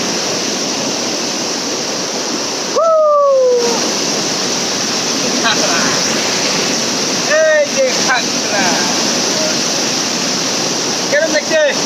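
Rushing water from a waterfall at Chakrasila, a constant loud hiss and roar throughout, with brief whistles and voices breaking in over it now and then.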